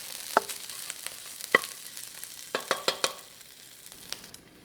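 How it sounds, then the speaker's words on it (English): Ginger and garlic sautéing in a pan, with a soft sizzle broken by sharp clicks and scrapes of a utensil against the pan, fairly quiet and without talk. "I'm going to saute that just for about a minute."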